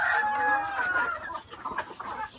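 Chickens clucking close by on a rural backyard plot where eggs are gathered, several overlapping calls and a crow-like cry at the start, then scattered short clucks continuing without any talk.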